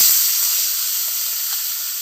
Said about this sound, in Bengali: এবার মাছগুলো ছেড়ে দেবো।